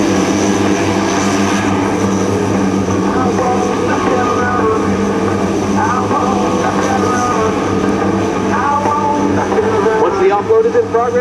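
Large military transport aircraft at an airshow runway, its propeller engines droning steadily and loudly throughout with a constant deep hum and whine, while an announcer talks over it on a public address system.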